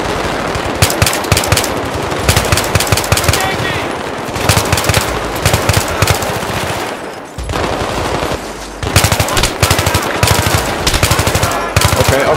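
Sustained automatic gunfire in the Battlefield 3 campaign, loud rapid bursts of machine-gun fire nearly continuous with brief pauses, mixed with explosions and combat noise.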